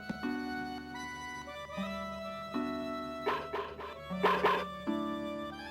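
A dog in the video game Mother 3 barks in short bursts, heard through looping chiptune music that plays steadily underneath, with the barks rising in the second half.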